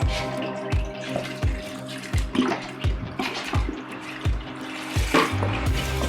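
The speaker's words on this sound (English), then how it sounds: "Now we need to get some liquid in there. I've got veggie stock." Store-bought vegetable stock poured into a soup pot over sweet potatoes, onions and garlic, a steady close glugging liquid stream with small splashes and drips throughout.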